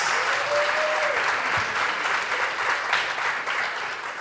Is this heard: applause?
yes